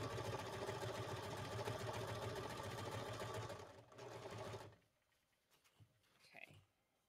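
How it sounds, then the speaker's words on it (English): A domestic sewing machine stitches fabric backward and forward to lock a seam, running steadily and loudly for about four and a half seconds before stopping, followed by quiet handling sounds. "Now we sew backwards, so we make that little knot and sew forward again."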